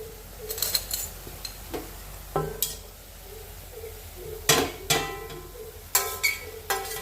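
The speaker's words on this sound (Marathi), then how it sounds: "कांद्याला चांगलं तेल सोडलेलं आहे आता त्यामध्ये आपण हे मसाले टाकून घेऊ सर्व प्रकारचे" Spices are tipped into onions frying in oil and stirred, making repeated scraping clanks of a utensil against the pan over a faint sizzle in an irregular, close rhythm.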